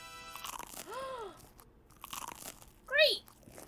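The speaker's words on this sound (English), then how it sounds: "Don't like the crunching noises." Crunchy eating sounds from the video game Happy's Humble Burger Farm, a couple of sharp bites and chews mixed with rising whooping tones, playing at moderate volume amid brief bursts of noise.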